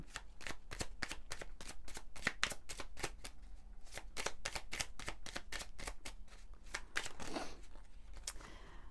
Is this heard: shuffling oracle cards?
yes